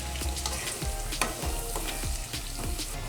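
Kalonji, black cumin seeds, sizzle lightly in oil over a low flame for a mango-style mixed vegetable pickle, a steady dense crackle broken by a few soft stirring scrapes, close and continuous with no voices.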